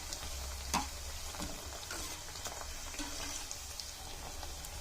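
Steady sizzling and crackling of puri frying in hot oil, a constant bubbling hiss with a few soft clinks, no voices.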